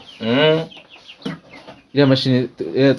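Hens cluck in short bursts, several close calls grouped in two clusters with brief quiet between them.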